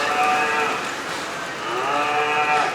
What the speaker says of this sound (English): A mooing van selling milk and ice cream.